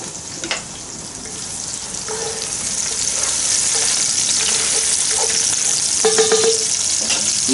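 Vegetables sizzle steadily in a hot Dutch oven, a constant close frying hiss with a few clinks and stirring scrapes.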